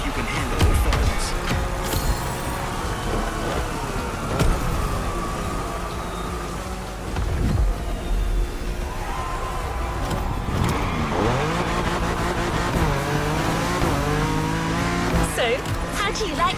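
A modded BMW in The Crew Motorfest revs and accelerates hard, engine pitch climbing and dropping through gear changes with tire squeal, loud and continuous under a speaking voice.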